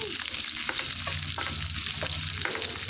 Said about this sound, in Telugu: ఇందులోనికి ఎండుమిర్చి కూడా వేసుకొని వేయించుకోవాలి